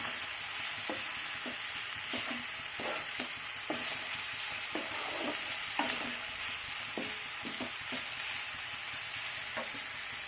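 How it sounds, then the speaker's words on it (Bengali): Veg chowmein frying in a pan under a steady hiss of sizzling, with regular scraping strokes of a spatula or spoon as it is stirred, heard up close with nobody talking. "একটু ভালো করে ভালো করে নাড়াচাড়া করব"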